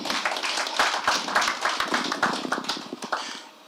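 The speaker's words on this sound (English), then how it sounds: "We'll applaud you for that." A market or meeting audience claps in dense, steady applause from start to finish, then fades slightly at the close, with no voices over it.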